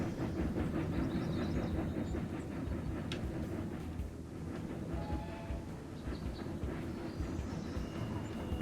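Trains running in the railway-management game Railroad Corporation 2 give a steady, loud rolling rumble with faint rhythmic clatter throughout, plus a brief high squeal near the middle; no one speaks.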